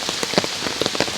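Rain falls steadily during a summer hike at the start of the rainy season, a dense, close patter of drops striking surfaces, with no voices.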